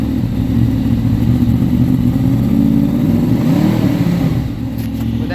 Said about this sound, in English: I wanted to try to rev it